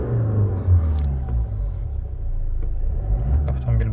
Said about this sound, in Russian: Автомобиль бодро набирает обороты без посторонних шумов.